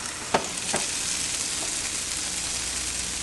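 A grilled cheese sandwich sizzles steadily in a frying pan, a continuous close crackle with a couple of sharp scraping clicks near the start and no talk.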